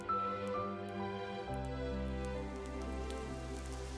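Rain beginning to fall on a summer day, a steady close hiss of drops on surfaces with scattered individual drop ticks, alone with no voices.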